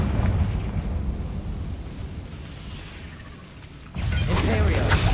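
A Confringo fire spell bursts in the Hogwarts Legacy video game, a booming explosion with a rumbling tail that fades before a second loud blast erupts near the end.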